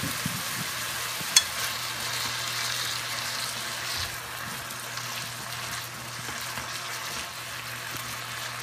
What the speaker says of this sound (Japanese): 身の方を入れて白くなるまで炒めていきます。 身が白くなったところでごぼうを入れます。